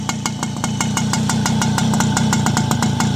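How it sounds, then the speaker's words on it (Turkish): A Yamaha Galaxy scooter with a newly replaced cylinder and piston, running on oil-rich fuel, idles steadily close by with an even, rapid putter that never changes, and nobody speaks. "Maşallah motor gayet güzel sayıyor."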